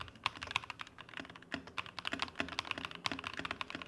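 Rapid, steady typing on a Corsair 65% mechanical keyboard with factory-lubed switches and stabilizers, crisp clicky keystrokes in a continuous close-up patter with no voices.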